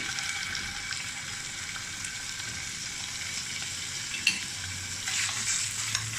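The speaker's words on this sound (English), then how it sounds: "So first I'm going to put the minced meat in." Minced meat goes into oil heated to a high temperature in a pan and fries with a loud, continuous sizzle and some stirring. No one speaks.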